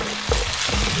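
Pancit canton with chicken and soy sauce sizzles in a hot pan, with a quick scrape of stirring cutting through the steady frying hiss.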